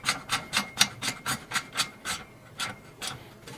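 A Starknight front bumper is tightened onto a Polaris Ranger 1000 with a hand tool, giving about a dozen quick, evenly spaced rasping ratchet strokes, close and fairly soft.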